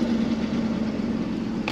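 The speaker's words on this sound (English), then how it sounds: "Starting the engine." BMW 530i with a 3.0 engine at about 134,000 miles, diagnosed for running rough, idles after starting: a steady, low mechanical drone with a fixed hum, close and alone.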